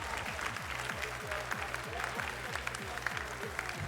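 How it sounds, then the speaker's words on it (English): Audience applause fills an esports 1v1 final hall, a dense steady wash of clapping with a faint low rhythmic thump repeating beneath it throughout. "Give it up for Kriller, everyone."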